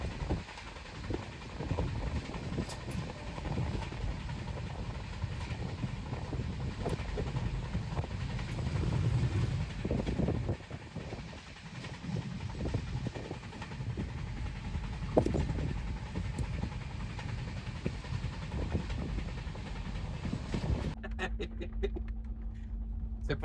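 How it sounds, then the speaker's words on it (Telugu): A fast-moving passenger train on an overnight run from Somnath to Dwarka gives a continuous loud rumble and rattle from inside the carriage, steady throughout and cutting off abruptly near the end. "ట్రైన్ మంచి స్పీడ్గా వెళ్తుందండి,"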